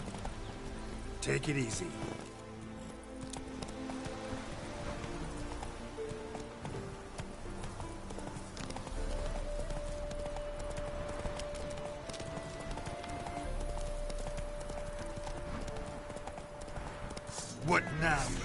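A horse galloping in The Witcher 3, rapid rhythmic hoofbeats running under a steady game-world din, with a brief whinny near the start and a short spoken line from a man.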